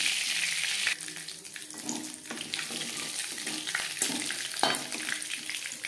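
Panch phoron spices crackling and sizzling in hot oil in a kadai after prawns were fried in it, with steady frying hiss, some stirring knocks and a few sharp pops, no talking.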